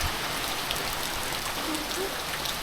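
Heavy rain pours steadily at an outdoor spot behind a house, a dense continuous hiss of drops on surfaces, loud and close with no pauses.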